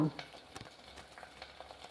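Onions sauté quietly in a pan for rasam made with rice-washing water, giving a faint sizzle under a string of light, irregular stirring scrapes.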